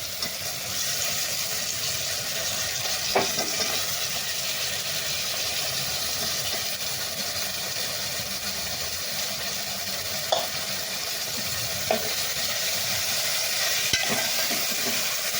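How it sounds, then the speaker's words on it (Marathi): Potatoes and mixed vegetables with salt sautéing in a pan, a steady close sizzle under a low background hum, broken by a few isolated clinks of a spoon. "छान परतवून घेऊया. मी यात मीठ टाकले आहे, त्याच्यामुळे सगळ्या भाज्या छान शिजतील लवकर."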